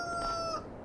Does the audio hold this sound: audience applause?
no